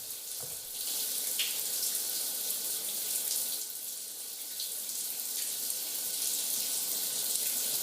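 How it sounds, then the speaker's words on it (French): A shower running in a horror film, a steady hissing spray of water, fairly loud and unbroken, with a faint sharp knock early on. "Pourquoi ils sont sous la douche?"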